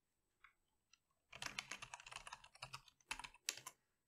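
A password typed on a computer keyboard: a few isolated key taps, then a quick, close run of clicking keystrokes with short pauses and a final burst, no voice.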